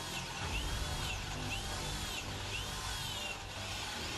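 A Bosch 12V brushless Flexiclick drill bores into timber with a steady, loud whirring drone that runs continuously throughout, rising and falling slightly in pitch as the bit works through the wood.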